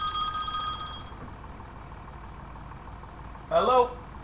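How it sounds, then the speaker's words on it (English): A phone rings in the farming game Farming Simulator 17, a bright trilling electronic ring for about a second over a low engine drone, followed by a brief burst of voice. "That's my phone again. Let me just go and answer that"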